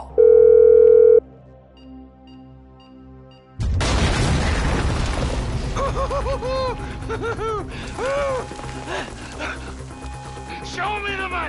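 A phone dial tone in GTA V, a loud steady electronic tone for about a second, then game sounds and chaotic action with barking and rumbling that continue after it.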